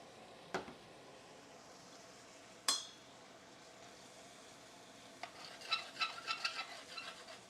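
Peas cooking down in a pan as vinegar is added to deglaze, a quiet sizzle with two sharp utensil knocks, then a burst of livelier bubbling and stirring clatter near the end.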